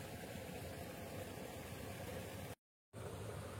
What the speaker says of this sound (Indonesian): Ya itulah mobil-mobil yang sudah menjemput pulang mungkin ya